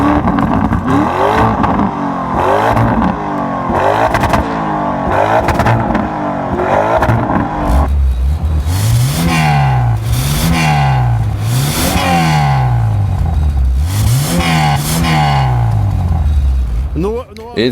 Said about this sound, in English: Let's compare its exhaust with a Lamborghini.